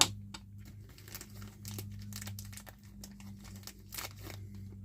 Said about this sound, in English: Let me cut one of these open. I just cut a little slit so I get a tire out